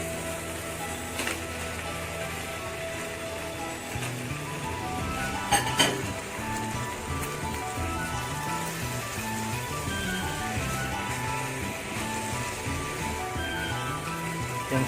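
Chicken goes into a pan for Malaysian rendang over a steady sizzle, with clinking metal utensils, a brief clatter partway through and background music throughout.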